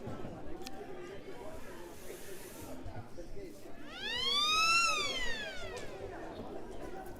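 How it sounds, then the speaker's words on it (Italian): A roller hockey arena siren signals the end of a timeout during a Serie A2 match, sounding as a loud rising-falling multi-tone wail for about two seconds over crowd noise and an announcer's commentary. "La sirena avverte che il timeout sta per finire"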